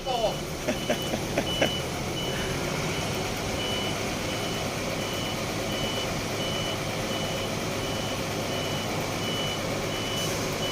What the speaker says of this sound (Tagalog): Ginamitan ng boom truck.